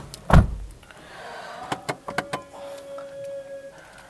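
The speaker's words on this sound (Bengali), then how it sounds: "দরজাটা লাগে।" The door of a 2016 Toyota Axio Hybrid shuts with a single heavy, close thud. A few light clicks follow, then the steady whine of an electric window motor.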